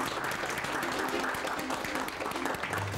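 A roomful of people claps together at a company gathering, producing a dense, even wash of applause that holds steady at close range for the whole moment, with no pauses or standout claps.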